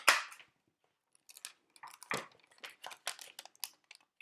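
A paper punch bites through cardstock while a strawberry scrapbook card is made: one sharp, close snap at the start, then a scatter of small clicks, taps and papery rustles.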